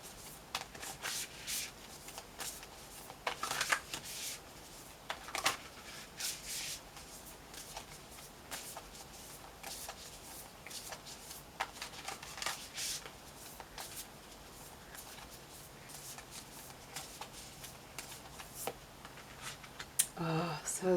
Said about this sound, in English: let's go ahead and pull a ritual affirmation card to wrap up your session